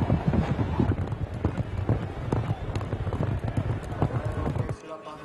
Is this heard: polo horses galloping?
yes